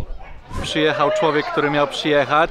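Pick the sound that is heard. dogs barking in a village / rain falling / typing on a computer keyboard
dogs barking in a village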